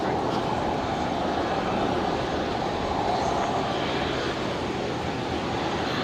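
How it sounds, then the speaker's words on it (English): A Qantas airliner departing Brisbane for Melbourne produces a steady, distant jet engine roar as it takes off, a broad continuous rumble with no break across the stretch. "next departure here is Qantas 621 off to Melbourne"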